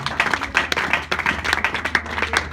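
A church congregation clapping and cheering for the Lord, a dense run of close, rhythmic hand claps with a crowd cheering beneath, loud and sustained.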